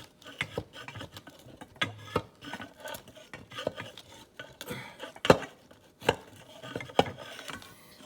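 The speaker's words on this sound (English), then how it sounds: "And I will stir it up with it." A mixture containing aluminium hydroxide, with copper added, is stirred in a container, giving irregular scraping and clinking strokes, some sharp knocks standing out, close and fairly quiet.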